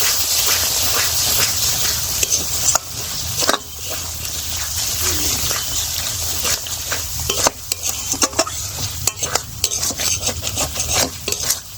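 A little water goes into fried spice masala for a Bengali katla fish curry and a spoon works it round the pan, giving repeated close scrapes and clinks over a soft hissing sizzle.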